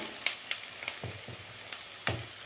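Eggplant sautéing in a pan for a Tamil egg stir-fry: a soft steady sizzle with scattered faint spatters and a few light utensil taps and stirring scrapes, close and quiet.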